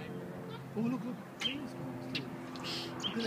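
A pigeon or dove coos a few times at moderate distance outdoors, with brief chirps and faint background noise between the calls.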